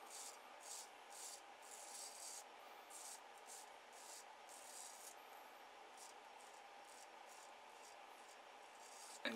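Razor blade drawn in light buffing strokes over shave soap lather on skin, a series of soft rhythmic scraping rubs, close but very quiet.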